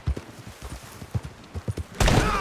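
Horse hooves clip-clop in a steady trotting rhythm in Red Dead Redemption 2, close and distinct, ending in a sudden heavy, noisy thud.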